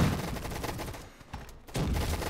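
Rapid automatic gunfire from a Roblox Gunfight Arena match, a dense fusillade of shots that briefly drops off near the middle before resuming, loud and close.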